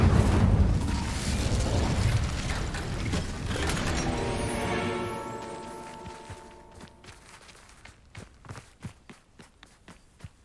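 Spell blasts from Confringo and Incendio in the video game Hogwarts Legacy: a loud booming burst with ringing tonal tail fading out, followed by a series of sharp, spaced impact pops.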